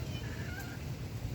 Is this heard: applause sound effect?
no